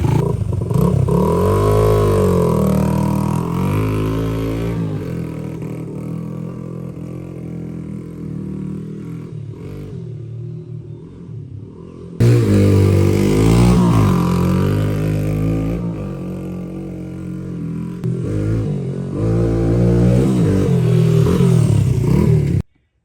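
A Honda XR80 motorcycle fitted with a big bore kit starts on the first kick from cold, then idles and revs loudly up close. The engine cuts briefly before catching again and revving repeatedly.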